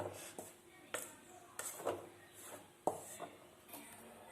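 Milk powder dry-roasting over low flame in a pan, with quiet, intermittent scraping and tapping strokes from stirring, spaced irregular knocks against the pan surface.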